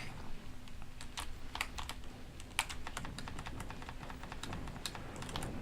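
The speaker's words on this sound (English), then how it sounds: "I'm so sorry about the keyboard." Rapid, uneven typing on a computer keyboard, the clicky keystrokes close and fairly faint over a steady low background hum, with no one speaking.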